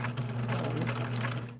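A home sewing machine runs steadily at close range, a continuous whirring hum with a rapid mechanical chatter and no speech.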